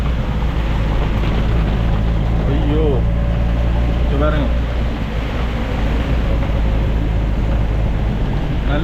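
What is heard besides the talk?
heavy rain and strong wind during storm in Jaffna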